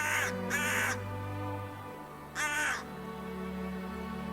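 A crow in a park gives three harsh, close caws: two in quick succession, then a third after a pause, over quiet background hum with no talking.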